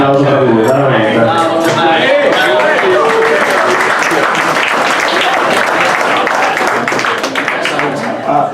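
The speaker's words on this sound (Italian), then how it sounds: "Grazie Roberto, ancora un applauso per lui, veramente." Applause at a gala ceremony, honouring a prize winner: dense, steady clapping from a crowd that holds for about eight seconds, mixed with voices, before fading slightly at the end.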